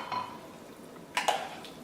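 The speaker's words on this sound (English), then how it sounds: "Mix your flour very well." Rice flour batter for Cambodian nom krok stirred in a bowl, with soft scraping and two quick clinks of a utensil against the bowl near the end, close and fairly quiet.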